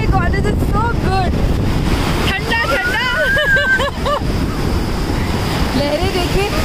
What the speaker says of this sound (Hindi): लहरें देखिए कितनी तेज तेज ऊंची ऊंची लहरें आ रही है।